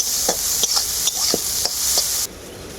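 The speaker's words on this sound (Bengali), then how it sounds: "সয়া বড়িগুলো আমি খুব ভালো করে ভেজে নেবো" Soy chunks frying with salt and turmeric in a pan, a steady hiss of sizzling oil broken by several sharp scrapes of a spatula stirring them, close and fairly loud.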